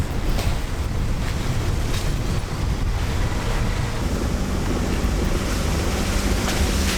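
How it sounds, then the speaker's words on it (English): Strong cold wind at a Pacific coast campsite on the Inskip Peninsula roars continuously and loudly into the microphone, with a steady rushing of surf beneath the buffeting and no voices. "The wind picked up like crazy."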